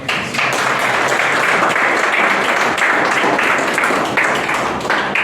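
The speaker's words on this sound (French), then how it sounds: "Je voulais dire applaudissez, mais vous avez anticipé." A seated audience at a training event breaks into loud, dense applause, many hands clapping together in a steady close wash that fades slightly toward the end, with no voices over it.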